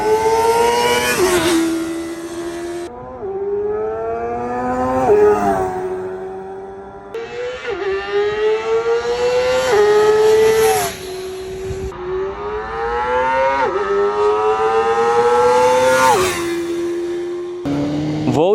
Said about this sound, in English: it sounds amazing, but in this regard, every single Inline 4 would sound pretty much the same